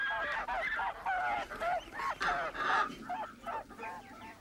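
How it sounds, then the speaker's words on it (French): Farmyard poultry, goose-like, honk and squawk in a rapid string of harsh calls while a farm dog chases them, loud and close with no talk. "Pato, le chien de la ferme, se livre à son jeu préféré, qui est d'effrayer sans ménagement toutes les volailles de la basse-cour"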